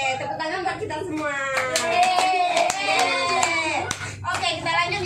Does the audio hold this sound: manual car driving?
no